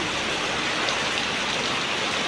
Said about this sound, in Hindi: देखिए बहुत तेज़ हो रही है बारिश।